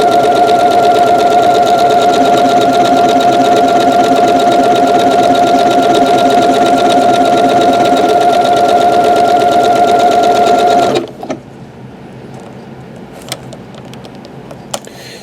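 A Janome sewing machine stitches a buttonhole with its automatic buttonhole maker, a loud, steady motor hum and rapid needle rhythm running about eleven seconds before stopping abruptly, followed by a few faint clicks.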